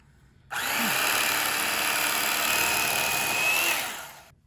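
An electric carving knife for carving meat whirs steadily at close range, starting abruptly, holding a constant high buzzing drone for about three seconds, then winding down.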